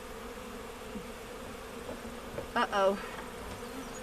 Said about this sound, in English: I accidentally set the bee feeder down on a bee when I wiggled it